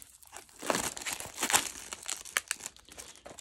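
A price sticker is peeled off the shrink-wrapped packaging of a Sealab 2021 Seasons 1 and 2 DVD box set, giving close, fairly quiet crinkling and tearing of plastic in irregular bursts.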